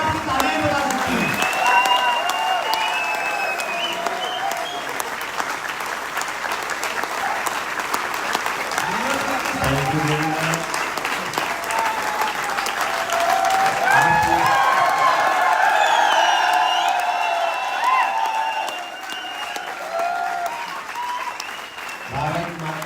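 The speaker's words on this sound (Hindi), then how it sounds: "आपका उत्साह और प्यार कितना है आपकी तालियां बजा सकती हैं।" A large audience at a direct selling event applauds loudly and steadily for a long stretch, clapping swelling and dipping with occasional cheers, while a voice speaks over it through a PA.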